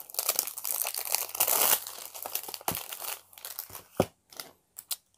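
Plastic wrapping on a Versace Eros Flame perfume box is cut and peeled open, giving close crinkling and tearing bursts that thin into scattered rustles and taps.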